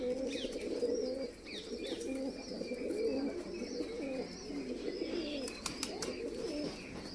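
Prize-winning racing pigeons coo in a soft, continuous layered chorus, with a few chirps and a brief burst of wing flaps near the end, heard without talk.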